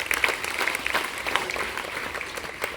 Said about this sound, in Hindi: तो उन सभी छात्र छात्राओं के लिए एक बार जोरदार ताली बजाएं।